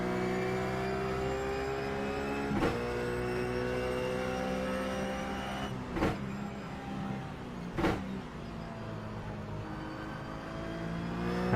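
RUF Cup race car in the iRacing video game at Bathurst, climbing the mountain through turn 2. The engine drones steadily with a few brief sharp bumps of gear changes or kerb strikes, and nobody speaks.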